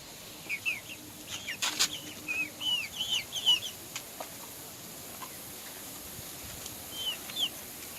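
Chickens and chicks at a small farm, fed watermelon, give scattered short peeping and clucking calls, faint and irregular, with a brief flutter of movement and no talk.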